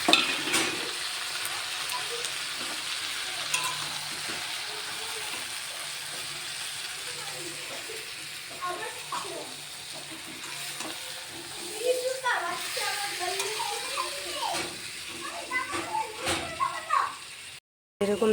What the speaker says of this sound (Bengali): মাছটা ছেড়ে দিলাম